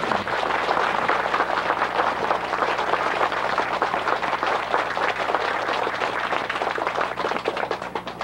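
Sustained applause from a gathered congregation at a Buddhist temple's anniversary dharma ceremony in California, a dense even wash of many hands clapping for several seconds, heard from a moderate distance without talk.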